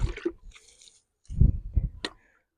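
Feet press and trample wet nettle mulch soaked with water, giving squelchy, squishing bursts in two clusters separated by a quiet pause, close and moderately loud.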